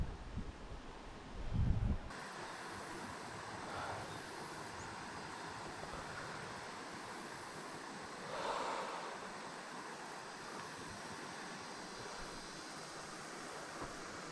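Steady broadband rush of a small river flowing near a spillway, continuous and moderately close, with a brief low thump at the start and a few faint swells in the water noise.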